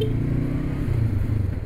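Honda CBR500R motorcycle engine pulling hard under acceleration during an overtake, a steady close droning note that climbs slightly, with wind noise throughout and no talking.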